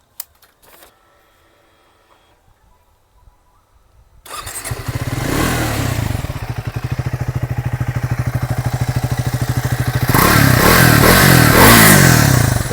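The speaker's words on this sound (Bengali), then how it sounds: "এটা হচ্ছে ট্র্যাম্পের এক্সস্টের সাউন্ড" A Triumph Speed 400 motorcycle exhaust starts after a quiet stretch, then idles with a loud, close, rapid thumping pulse before revving harder near the end.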